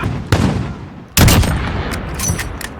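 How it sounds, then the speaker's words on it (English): HDR sniper rifle in Call of Duty: Modern Warfare firing two loud, sharp, booming shots about a second apart, each cracking close and echoing briefly before fading into lighter game noise. "Second sniper rifle you guys get is the HDR."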